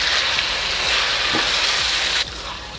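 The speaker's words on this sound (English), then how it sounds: "gnocchi is joining the sizzle" Pumpkin gnocchi sizzles loudly in an oiled frying pan, a dense steady hiss with a faint scrape partway through, then the sizzle suddenly drops quieter near the end; no talking.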